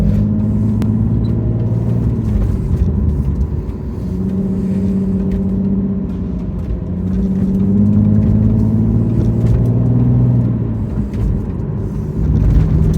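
A Nissan Pulsar GTiR engine idles with a low, steady rumble while warming up, rising and falling slightly in pitch as it runs continuously nearby.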